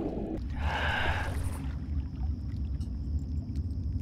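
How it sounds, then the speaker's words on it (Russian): Water splashing in the Far Cry video game as the player wades through water: a short burst of sloshing about half a second in, lasting around a second over a constant low rumble, with quieter ambience afterward. "по воде он услышит звук воды"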